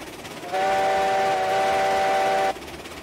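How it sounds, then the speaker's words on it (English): A steam locomotive whistle in the train game Railroads Online gives one steady, loud, chord-like blast of about two seconds over quiet rumbling, passing near a telegraph station. "I'm gonna rail fan this train as it goes by here by the telegraph station."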